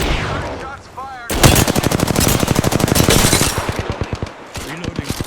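Gunfire in the video game Apex Legends: a loud, close burst of rapid automatic shots starting after a second and rattling on for about two seconds, then thinning into a few spaced single shots.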